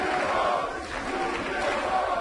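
A studio crowd at an LCS esports match in the EU LCS Summer Split roars and cheers continuously, a dense, loud wash of many voices.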